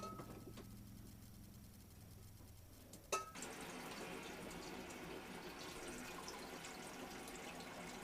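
Water pours from a tap aboard a sailboat at a marina in a steady rush after a brief clunk, running continuously at moderate volume.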